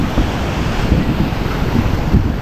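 Heavy ocean surf churns with high, rough waves, carried under steady wind noise across the microphone without any talk.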